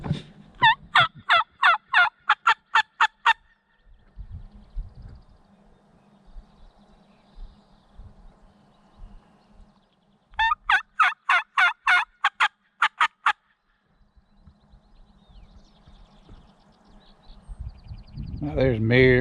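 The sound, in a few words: wild turkeys gobbling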